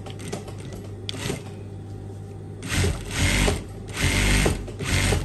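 Sewing machine stitching an elastic waistband on a sarong: a close mechanical whirring hum with ticking gear sounds, running in short bursts that swell louder toward the end, with no voices.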